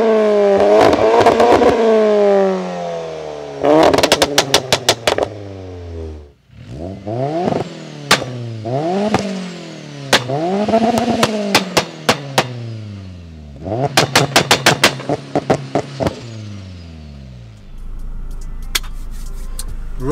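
A tuned VW car engine revs hard in several sharp bursts, each climbing in pitch and dropping off, with crackling pops and bangs between the revs. The sound is loud and close, with no talking.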